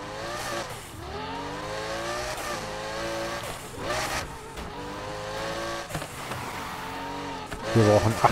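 A car drifting in the racing game Need for Speed Heat: steady engine revving with rising and falling pitch and occasional tire squeal, with a voice talking over it throughout.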